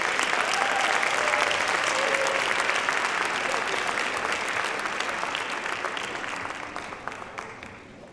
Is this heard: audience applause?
yes